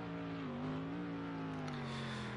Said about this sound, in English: I can hear a car.